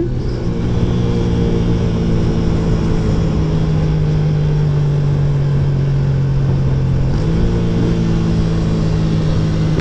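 A 150cc motorcycle engine running at high, steady revs with a droning tone, a slight pitch shift near the end, loud and close, with no speech.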